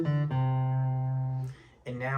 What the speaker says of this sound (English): So you've memorized a flat picking line that sounds like this.